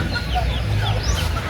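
Close, low clucking from a small group of farmyard chickens carries steadily through a brief moment, with light chirps over a murmuring background.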